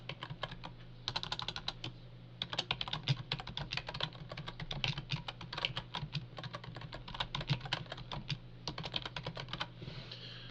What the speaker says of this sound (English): you type in what you want to say